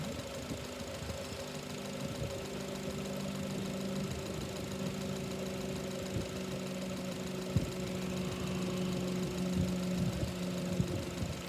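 A Honda engine with a hitching problem runs steadily at idle, a continuous mid-low mechanical drone with a faint knocking texture and a few small clicks, close and alone without any talk.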